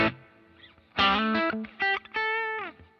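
Distorted electric guitar through a dynamic plate reverb effect plays a few phrases of sustained notes, each ringing out with a lush, shimmering reverb tail.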